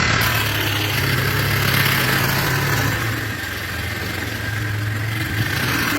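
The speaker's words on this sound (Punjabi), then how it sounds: "ਸਕੂਟੀ ਦੀ ਆਵਾਜ਼ ਕੌਣ ਸੁਣਾਉਂਦਾ ਹੁੰਦਾ ਹੈ?" A scooter engine idles steadily with a low, constant hum, close by and unbroken throughout.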